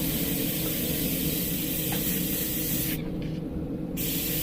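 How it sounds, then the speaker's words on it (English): An airbrush sprays paint on a beginner Minion project, giving a steady close airy hiss that breaks off briefly near the end. "We're getting a little bit of overspray."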